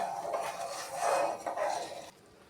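A pot of mango juice and sugar stirred slowly and gently, soft scraping and faint clinks of a utensil against the pot, close but quiet, with the sound dropping away near the end.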